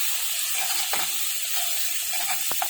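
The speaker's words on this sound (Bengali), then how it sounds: "ভালো করে কষিয়ে নিই। মশলাটা ভালো করে কষিয়ে নিলে তারপর আমি ভেন্ডিটা ছেড়ে দেব।" Spice paste (masala) sizzling as it is sautéed in a pan for okra curry, a steady close frying hiss with a few sharp scraping stirs, no voices.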